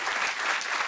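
Studio audience applause, a dense steady wash of many hands clapping, loud and sustained for just under a second with no pauses.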